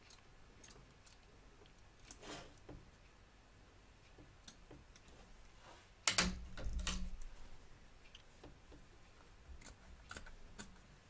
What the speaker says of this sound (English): Trim away all the fabric from the inside of the stitch lines, taking care not to cut your stitches.